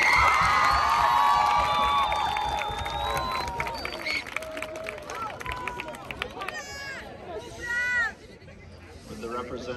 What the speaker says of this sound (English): One more round of applause for Los Osas High School.